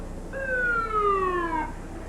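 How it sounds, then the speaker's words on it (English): An ambulance siren tone sliding slowly downward, rising out of background hum and fading again as it passes, heard from some distance at a NASCAR race track. "we had an ambulance come through here"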